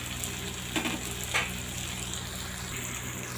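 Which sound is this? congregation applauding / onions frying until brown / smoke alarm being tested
onions frying until brown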